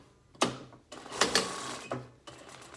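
A sewing machine stitches a pleated fabric face mask held in a jig, giving a few short, close mechanical bursts separated by brief pauses, with no voices.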